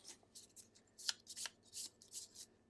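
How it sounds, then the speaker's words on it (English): A deck of cards is shuffled during a Gloomhaven board game session, with a series of short crisp riffling bursts in an uneven rhythm, close and fairly quiet, with no voices. "And shuffle."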